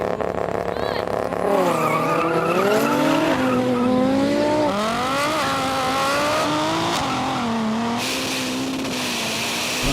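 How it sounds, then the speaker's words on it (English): Drag race launch of a Ferrari SF90, a 1,000 hp Golf R and a BMW M240i, with loud engines revving and rising through gear changes in overlapping sweeping tones and a brief tyre squeal. "Let's race."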